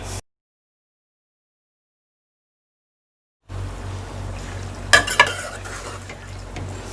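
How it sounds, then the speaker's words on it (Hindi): Irani chicken karahi with green chillies and coriander stirred in a pan: a short burst, then a long silence, then a low sizzle with a few sharp clinks of a spoon against metal. "और इसको अच्छे से मिक्स कर लें।"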